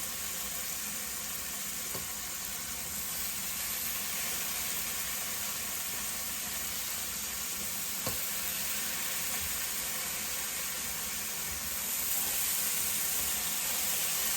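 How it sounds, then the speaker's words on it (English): Bacon sizzles steadily on a hot griddle, a dense continuous crackling hiss with faint pops, close and fairly loud, growing slightly louder near the end. "hear that bacon sizzle?"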